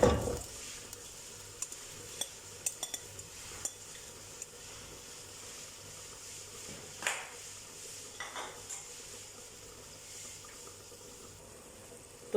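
Boiled beef added to a pot of browned onions and beef stock for yakhni beef pulao sets off a soft, steady sizzle, with scattered clinks and scrapes of stirring and one louder splash partway through.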